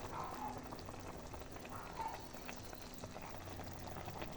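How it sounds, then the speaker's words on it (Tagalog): Calamansi juice poured into simmering chicken tinola, a faint liquid trickle over a steady low bubbling of the pot. "lagyan na natin ng kalamansi juice"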